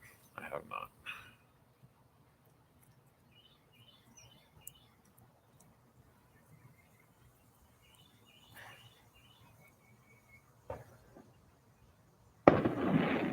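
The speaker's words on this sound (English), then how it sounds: "The fireworks are going off behind me." Fireworks going off outdoors on the evening of July 3rd, heard as a few faint, distant pops and bursts spaced far apart in near quiet, with small bird chirps and one louder noisy burst at the end.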